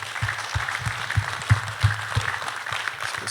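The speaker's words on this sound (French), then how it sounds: "On peut vous applaudir pour ce premier tour de table." A conference audience at a French biodiversity talk gives a short burst of applause, a few scattered claps rising and fading over a couple of seconds, fairly faint in a hall.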